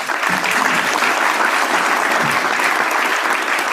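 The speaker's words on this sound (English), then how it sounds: "And one more round of applause for Tim." Steady, dense applause from an audience at a business launch conference fills the hall, loud and even throughout, with no voices standing out.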